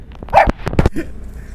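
Pet dogs at home barking close by in a quick burst of a few sharp, loud barks and yips, ending in a short whimper.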